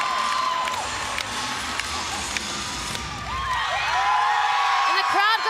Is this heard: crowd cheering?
yes